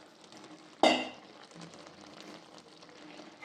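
Wet, freshly cut coriander leaves hitting a hot frying pan, a sudden loud sizzling burst that fades into a quieter crackle over the following seconds.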